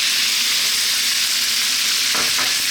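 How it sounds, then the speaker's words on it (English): Peanuts tipped into a hot pan for Thai stewed chicken, a loud dense sizzle filling the whole stretch, with a couple of brief stirring scrapes near the end. "We're going to add those peanuts in."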